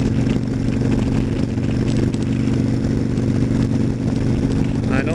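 A motorcycle engine rumbles steadily and loudly up close while the rider is out warming it up, a continuous idling throb with clattery mechanical texture.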